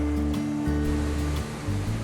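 Surf breaking against the rocks of a wild Atlantic shoreline at Camariñas on Spain's Costa da Morte, a continuous loud wash and rumble of waves, with no voices.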